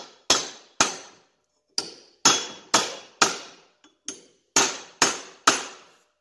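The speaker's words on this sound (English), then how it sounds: "find just a decent hammer and some kind of punch that fits in there. And see if we can just drive the handle out through the bottom" A hammer drives a punch against an old axe handle held in a vise, giving about ten sharp, ringing metallic blows in an uneven rhythm with brief gaps, close and loud with no talking.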